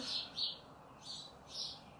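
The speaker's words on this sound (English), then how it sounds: "sorry you guys could hear the birds, my window's like wide open" Several faint, high bird chirps come in through an open window, heard in four brief bursts over a quiet indoor background.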